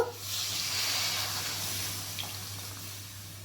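Water pours into a pan of yam curry with a soft, steady splashing rush that tapers off over a few seconds, heard close and fairly quiet under a low background hum.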